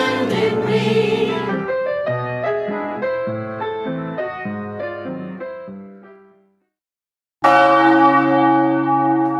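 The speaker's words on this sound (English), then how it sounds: "The bell calls us together in covenant, to share, to reflect, to hear with open hearts." A church bell rings a tolling sequence of resonant strikes that fade to silence, then a fresh loud strike rings out again, clear and close with no voices.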